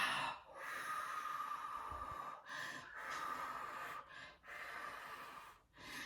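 A person breathes in and then blows out hard, as if at birthday candles, several times in a row. The exhales are breathy and close, with short pauses between them and no talking.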